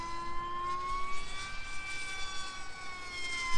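Motors of an Emax Babyhawk R 4-inch FPV drone at full throttle, giving a loud, sustained high-pitched whine with steady tones that slowly shift in pitch, close by and with no voices.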